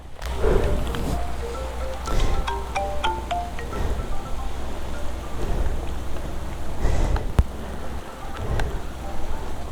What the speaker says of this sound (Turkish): Oğlum nasıl yağıyor? Kurban olduğum. Nasıl yağıyorsun ya?